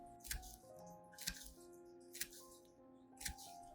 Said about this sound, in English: First, cut the banana peel into thin slices as shown in the video.